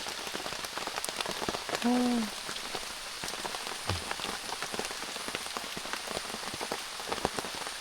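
Steady rain falling on a surface, a dense patter of drops with scattered louder plinks, continuous and close by, heard from inside a bamboo hut at night.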